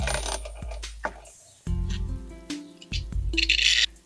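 A metal washer dropped onto a roller skate bearing axle, giving a few sharp metallic clinks and brief rattles separated by short silences, close and fairly quiet, with no talk.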